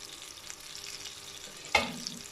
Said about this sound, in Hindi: अब मैं सैंडविच जो हैं इनको रख दूँगी इस मक्खन के ऊपर